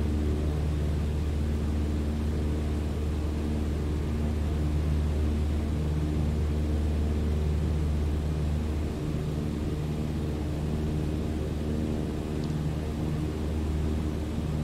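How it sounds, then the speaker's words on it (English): A steady, droning single-engine hum from a Cessna 152 cruising in Microsoft Flight Simulator 2020, constant and fairly quiet with a low rumble, no talk over it. "This aircraft cruises at approximately 100 knots, so not a very quick airplane"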